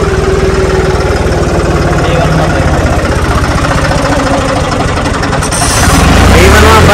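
A modified tractor running in D1 gear, its engine upgraded by about 15 hp, chugs loudly and steadily up close with a rapid knocking beat, rising in volume and roughness near the end.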